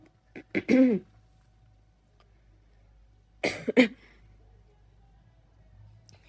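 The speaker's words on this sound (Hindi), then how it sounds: "एक तो आजकल मुझे खांसी बहुत ज़्यादा हुई है" Two separate bouts of coughing a few seconds apart, close and fairly loud, with quiet room sound between them.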